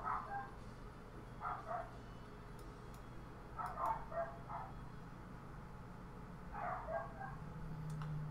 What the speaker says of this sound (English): And the dogs, they bark. They make the bark noises.